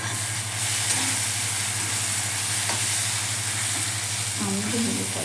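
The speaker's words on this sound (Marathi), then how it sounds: "आणि भेंडी फ्राय करून घेऊ." Okra (bhindi) sizzles steadily in a pan for restaurant-style masala bhindi, with a constant broadband fry hiss, a low steady hum beneath and a few faint stirring scrapes near the end.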